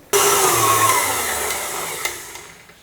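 An electric mixer whips chocolate custard cream for a Prague cake, starting abruptly with a loud steady motor whine that slowly fades in level, close by, with a couple of faint knocks near the end.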